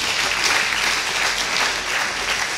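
Church congregation at a Sunday morning service applauding and cheering, a dense continuous wash of clapping with shouts mixed in, loud and sustained throughout.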